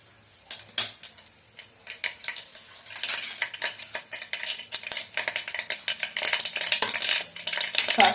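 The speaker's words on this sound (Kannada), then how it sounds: "ಸಾಸಿವೆ ಪಟ ಅಂತ ಸಿಗುತ್ತಾ ಇದೆ." Mustard seeds splutter and pop in hot oil for a simple rice dish, a dense, close crackle that builds steadily in intensity, mixed with light metallic scraping of a utensil in the pan.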